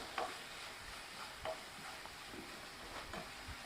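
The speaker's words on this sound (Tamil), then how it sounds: "ஃபுல் சிம்மில் வச்சு நல்லா கலந்துட்டே வாங்க" Pepper chicken gravy with dry masalas is stirred in a pan over a low simmer: soft, repeated scraping strokes under a faint, steady sizzle, quiet and close, with no voices.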